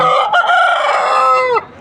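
A rooster at a crowded rooster market in Vijayawada crows once, a loud close crow sustained for over a second before cutting off sharply.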